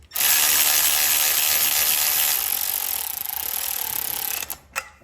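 A Milwaukee power tool snugs down the intake manifold bolts on a 2023 Harley FLHXS with a Screamin Eagle 55mm intake, giving a loud, close, continuous high whirring that slows near the end, then a few short mechanical clicks.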